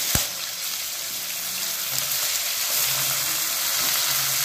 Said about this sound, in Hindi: अब यहाँ पे अदरक डाल दे रहे हैं और इसके बाद लहसुन डाल रहे हैं यहाँ पे।